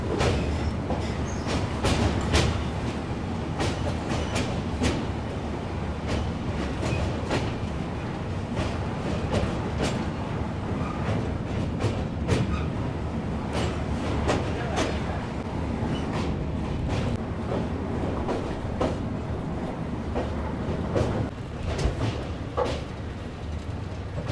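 The Agartala Tejas Rajdhani Express crossing the Dayang river, a loud steady rumble of rolling rail cars with repeated clickety-clack wheel beats over joints, heard from on board with no talking.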